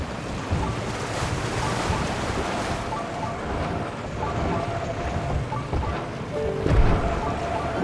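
Steady rain in the video game Zelda: Tears of the Kingdom makes a continuous broadband wash, fairly loud and unbroken, with faint gusts of wind and no talking.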